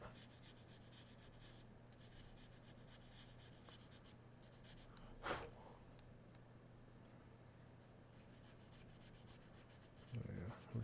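Steady, faint rubbing of 600 grit sandpaper, a continuous soft scratchy hiss with a brief louder stroke midway and a bit of handling noise near the end.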